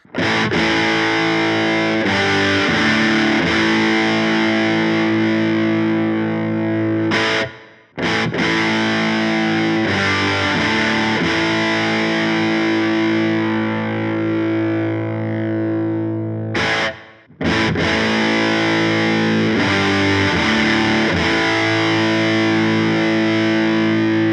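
An electric guitar played through a Wampler TCD (Compulsion Drive) overdrive pedal, with its dip switches set in turn, rings out in loud, distorted chords and riffs, broken by two short silent pauses.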